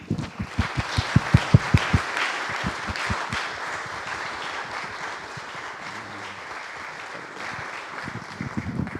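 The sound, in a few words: audience applause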